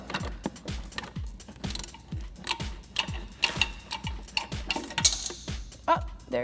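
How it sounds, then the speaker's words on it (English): Rapid, rhythmic clicking of a 16mm ratcheting wrench turning a shock nut on a Jeep Wrangler JK, close and crisp with a steady cadence of ratchet ticks. "now I'm just going to loosen up that nut with a 16mm ratcheting wrench and a 16mm open-ended wrench to hold the shock body still"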